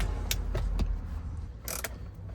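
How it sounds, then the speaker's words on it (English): Ratchet driving a deep socket on a trim bolt inside a Jeep Wrangler JK dashboard during a radio install, a few quick close clicking ratchet strokes in two short bursts. "So I'm gonna use this deep socket."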